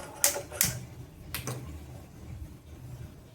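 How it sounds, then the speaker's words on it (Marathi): A gas stove igniter clicks sharply a few times, then the burner catches, before frying sabudana vada; close and fairly quiet in a home kitchen. "आपण इथे गॅस पेटवतोय"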